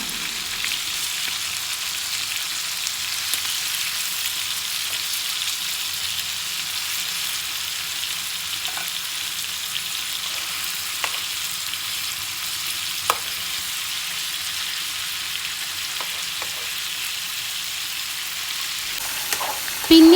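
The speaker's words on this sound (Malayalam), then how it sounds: "ഒരു ഭാഗം ഫ്രൈ ആയാൽ നമുക്ക് മറിച്ചിട്ട് കൊടുക്കാം" Pieces of green chicken fry in a hot pan with a steady, dense sizzle that runs the whole way through, broken by a few faint clicks and taps near the end.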